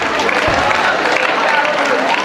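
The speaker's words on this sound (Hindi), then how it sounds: "जोरदार तालियां क्लास 7 बॉयज।" Audience applause at a school Krishna Janmashtami program after a call for the Class 7 boys' group dance, dense and steady clapping filling the whole stretch with crowd noise.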